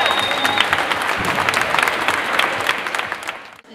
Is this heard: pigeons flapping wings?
no